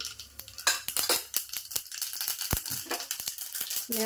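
Mustard seeds tossed into a hot pan while tempering chutney, sharp crackling pops and clinks in a rapid irregular patter, close and fairly loud.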